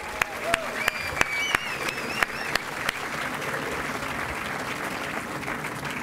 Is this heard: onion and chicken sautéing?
no